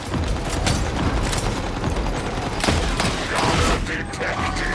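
A shotgun attack in a video game: dense, continuous bursts of blasts with mechanical clanks and ratcheting, loud and busy throughout, with faint game voice under it.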